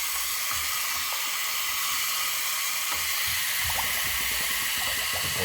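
An antique dug bottle is held underwater in a tub, giving a steady watery hiss and trickle with faint gurgles and small bubbling splashes as water fills it.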